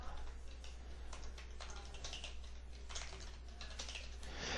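Fingers typing on a computer keyboard, quiet, quick irregular key clicks in short bursts over a faint steady hum.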